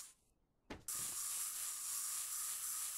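Spray painting in the video game Workshop Simulator: after a brief quiet moment and a short burst, a continuous bright hiss of spray starts and holds steadily to the end, no talking.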